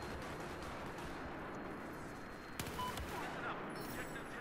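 Video game gunfire crackles in rapid bursts like a fusillade, dense and continuous with a sharper crack partway through, heard at moderate loudness.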